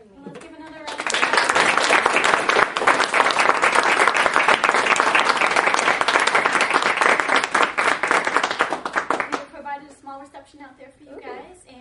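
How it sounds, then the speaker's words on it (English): Audience applause after a harp concert, a dense burst of clapping that swells quickly, holds steady for several seconds, then thins out to scattered claps near the end. "Let's give another round of applause."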